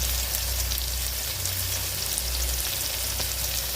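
Onions sauté in a pan for a goat head curry gravy, giving a steady, dense sizzle with light stirring, close up and continuous, over a low background hum.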